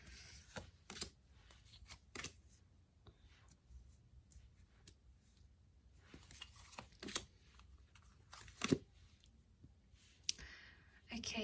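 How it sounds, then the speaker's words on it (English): Tarot cards shuffled by hand, soft riffling and clicking bursts recurring at a quiet, close level, with light talk at moments. "So let's see what the cards can reveal for you."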